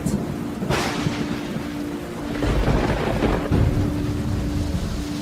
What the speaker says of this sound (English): For several days, a violent storm engulfed the country.